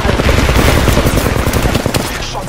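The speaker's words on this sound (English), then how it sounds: "Shots fired at me." Sustained automatic gunfire in the Apex Legends battle royale game, a loud, dense, rapid stream of shots that barely lets up, dominating the mix with no talk over it.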